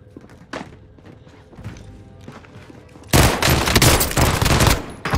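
Heavy automatic gunfire in Call of Duty Warzone bursts in loud and dense at about three seconds, continuing as rapid sustained volleys, after quieter scattered shots and low game ambience.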